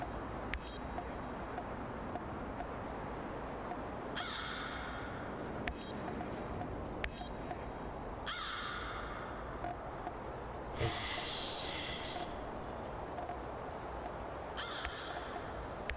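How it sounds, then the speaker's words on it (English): Crows caw repeatedly in a video game, the harsh calls arriving in irregular bursts over a steady ambient bed of wind and hum, some near and loud, others fainter, with no talking. "every day at 5 a.m., two crows start squawking"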